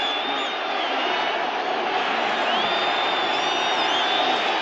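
A Giants Stadium crowd at a 1985 Cowboys vs. Giants football game keeps up a loud, steady roar with scattered whistles and whoops. The crowd noise runs continuously and fills the whole clip.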